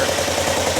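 A skid steer engine, just swapped and fitted with a new muffler, runs at a steady idle with a low, even rumble, close and continuous, no voices.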